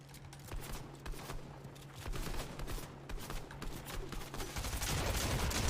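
Fortnite gameplay gunfire, with bursts of rapid shots and sharp cracks in clusters, growing denser toward the end, moderately loud over a low background hum.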